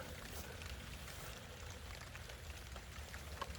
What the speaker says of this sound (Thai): โอ้ฝนตกมาแล้วครับ